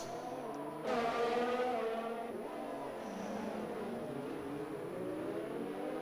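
Race cars in the RSF1 Singapore racing game, a sharp engine note rising in pitch around 1 s and then holding a sustained droning whine as the cars push through a tight hairpin, with no talking.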